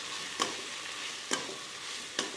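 Cluster beans (seeni avarakkai) fry in a pan under a constant hissing sizzle, with three separate scrapes of a stirring utensil spaced about a second apart, close and moderately loud.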